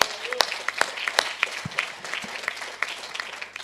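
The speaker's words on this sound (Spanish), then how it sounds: "Demos un aplauso." Church congregation applauding during a sermon, scattered, uneven clapping from a modest group with sharp individual claps, fairly quiet and roomy.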